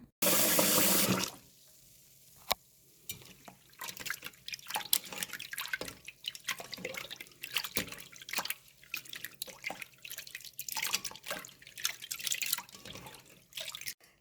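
Pork liver being washed by hand in salted water, with drips, splashing and tap-like water sounds in short irregular bursts after a brief loud rush at the start, close and fairly faint.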